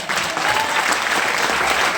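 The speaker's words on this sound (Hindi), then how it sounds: "तालियां होना चाहिए आपके लिए सबको" A crowd claps continuously for a couple of seconds, a dense burst of applause filling the room.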